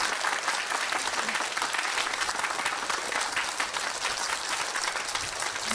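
Applause from an audience fills the space as a dense, steady wash of clapping, continuous and moderately distant, with no distinct voices.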